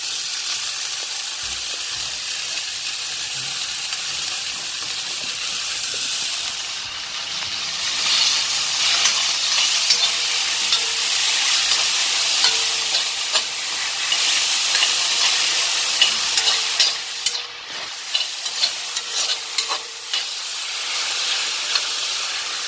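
Tomatoes cook in a hot pan with a steady, close sizzle and hiss that swells louder midway, broken by occasional scrapes of stirring; no voices.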